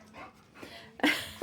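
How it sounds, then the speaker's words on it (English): A dog whimpering for attention indoors in a living room, a few short soft whines followed by a sharper yelp near the end. "You attention-seeking dog."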